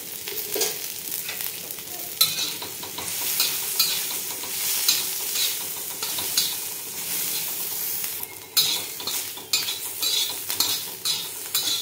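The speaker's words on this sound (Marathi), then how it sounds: "थोडीशी आपल्याला तेलाची धार टाकायची आहे, म्हणजे आपला कांदा चांगला असा तळून निघल्यासारखा निघतो" Onion sizzling in oil in a pan while being stirred, with steady frying crackle and repeated scraping of a spoon against the pan throughout, close and fairly loud.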